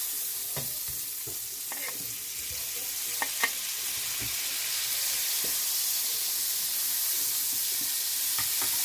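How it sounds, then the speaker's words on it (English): Butter sizzles steadily on a hot preheated griddle for French toast, a constant crackling hiss with scattered sharper pops and faint scraping taps. "so I've got the griddle preheated and I'm going to just throw a bunch of butter on"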